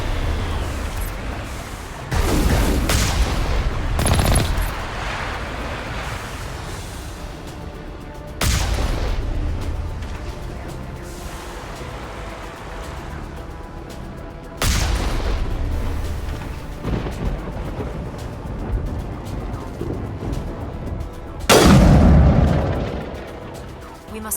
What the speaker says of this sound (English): We must find a way to disable their artillery.